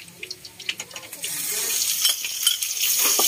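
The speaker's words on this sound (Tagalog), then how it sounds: "Pwede na natin igisa yung ating bawang." Garlic sautéing in a hot pan for mung bean stew, beginning with a few light stirring clicks before a steady, building sizzle takes over and holds close and loud.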